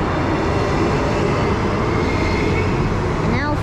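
A three-car EMU107 electric train rolls through Whitfords station with a loud, steady rumble of wheels and motors, heard close by over a busy noisy background, with a brief rising tonal whine near the end.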